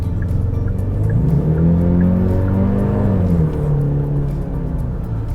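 A 2022 Genesis GV70 with the 2.5-liter turbo engine, in sport mode, accelerates to pass. Its engine note climbs and holds inside the cabin over steady road rumble, then settles.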